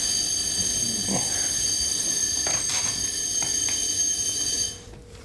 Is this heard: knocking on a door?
no